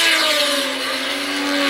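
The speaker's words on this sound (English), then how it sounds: "You can hear for yourselves how lumpy that Renault engine sounds as Watson crosses the line" A 1981 Renault Formula 1 engine at Silverstone running lumpy as the car crosses the line, a loud sustained whine whose pitch gradually falls, with no speech over it.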